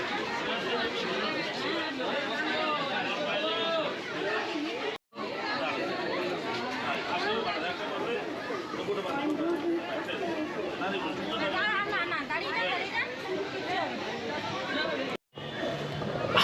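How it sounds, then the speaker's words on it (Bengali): A dense crowd packs Nabadwip Dham railway station on a morning of the Ras festival, with trains arriving from Howrah, Sealdah and Bardhaman; steady loud babble of many voices continues without break, apart from two brief dropouts. "এতে ভিড় দেখুন সকাল সকাল সাতটা সাতান্ন বাজে এখন কত ভিড়"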